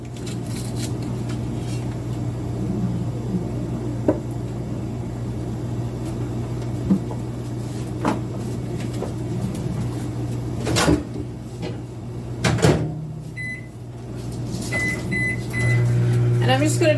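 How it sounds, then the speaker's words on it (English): Microwave oven humming steadily as it melts butter, close and continuous, with a door clunk and beeps near the end and occasional clatter; a person talks over it. "And we're just going to melt this in the microwave."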